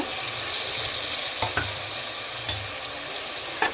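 Two or three tomatoes fry in a pan for egg biryani, a loud, continuous sizzle up close, punctuated by a few crisp clicks of the spoon against the pan.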